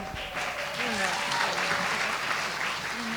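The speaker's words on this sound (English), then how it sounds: "have to cue you to clap again" An audience applauding steadily, a dense wash of clapping hands at moderate volume with a voice briefly audible over it.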